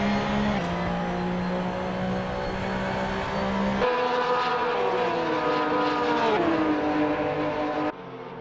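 A Porsche 911 race car engine in a sim racing game at Virginia International Raceway, its steady high tone holding then stepping up as the throttle eases on, with pitch sweeping through gears before dropping off at the end.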